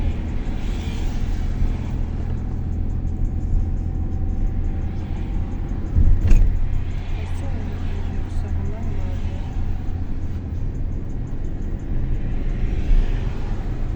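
A car engine roaring loudly during a driving lesson on a practice course, a steady low rumble that holds throughout with a brief swell in the middle.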